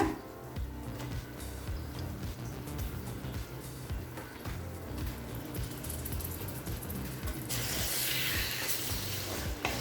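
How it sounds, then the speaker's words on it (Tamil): Half a kilo of large chicken pieces sizzle in a pan while being sautéed for chicken gravy, a steady close frying hiss with stirring scrapes, growing slightly louder toward the end. "சிக்கனை நல்லா வதக்கிக்கலாங்க."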